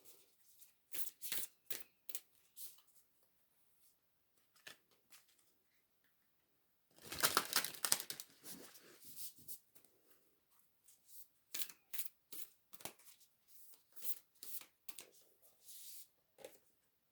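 Tarot cards are shuffled by hand close up: quick riffling bursts start and stop, then one longer, louder flurry of shuffling, then more short shuffles, with no talking.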